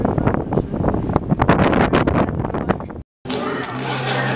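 Strong wind atop a tower in Iceland roars and buffets a microphone for about three seconds, with gusty low rumbling throughout, then cuts out briefly before a steadier hiss returns.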